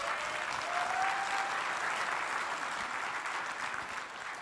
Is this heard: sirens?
no